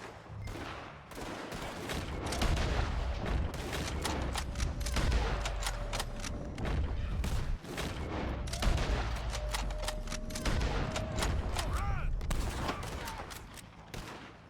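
Red Dead Redemption 2 shootout against O'Driscoll gang members, dense rapid gunfire crackling continuously and loud, with overlapping shots and echoing reports throughout and brief shouted voices in the mix.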